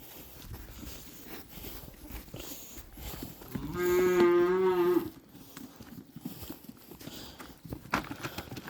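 Cows in a creek bed, with one long, loud moo rising from the middle amid quiet outdoor rustling and shuffling hooves before and after.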